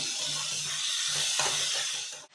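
Tomato and capsicum gravy frying in a pan gives a loud, steady hiss of sizzling that carries on for a couple of seconds with a brief stir partway through, then cuts off abruptly.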